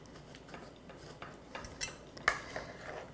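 A metal spatula cuts through apple coffee cake in a baking pan, giving faint scraping and light clinking taps against the pan, a few soft strokes up close in a quiet room.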